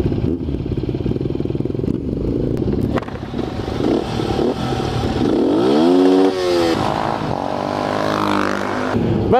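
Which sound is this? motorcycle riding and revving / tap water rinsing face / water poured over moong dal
motorcycle riding and revving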